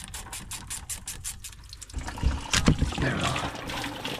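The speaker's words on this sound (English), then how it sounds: "There's a leak in the water coming now. So a bucket underneath to catch all that" Water trickling and splashing from a leaking tractor hose into a bucket placed underneath, a steady close liquid patter that grows louder and busier partway through.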